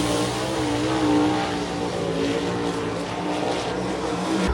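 Sprint cars roar around Florence Speedway during qualifying, a loud, steady blend of high-revving engines from the dirt track that fills the whole stretch with no pause.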